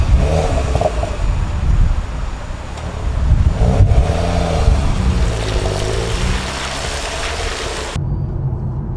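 A Ford Focus ST drives through heavy rain. The engine hum and tyre and road roar rise and swell with a wash of rain noise, and the sound cuts off sharply just before the end.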